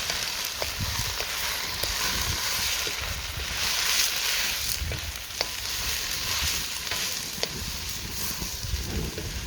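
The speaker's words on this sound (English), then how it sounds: "we're just going to cook those onions down until they're just over soft and starting to brown" Chopped onions fry over ferocious high heat outdoors for a spicy chana masala, a steady broad sizzle with occasional sharp pops and stirring clicks, close and continuous with no talk.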